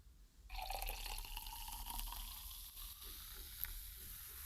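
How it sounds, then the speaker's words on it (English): A sparkling drink such as champagne, Prosecco or sparkling water pours into a glass, starting with a sudden rush, then settling into a faint steady fizz with tiny crackling pops. "recording the sounds of champagne, of Prosecco, and of sparkling water"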